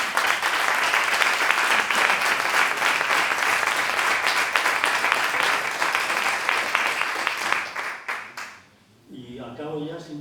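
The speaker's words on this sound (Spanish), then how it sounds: "Por eso, pues vamos a pedir un aplauso para Paco Cuadrado." Audience applause at a book presentation, a dense sustained clapping from a seated crowd that fills the room and then breaks off, followed by a voice starting to speak.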